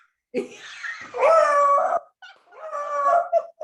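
A dog named Biggs howls in long, wavering bursts, two drawn-out yowls with a brief break between, close and fairly loud with no talk over it.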